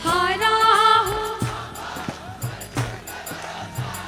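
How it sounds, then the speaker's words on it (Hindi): At a Khatu Shyam bhajan, the gathering claps along in a steady rhythm. Crisp, regular claps come in after a sung line and continue beneath the music and singing voices. "बजाओ ताली"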